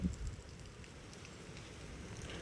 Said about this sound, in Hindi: बारिश है भाई तेज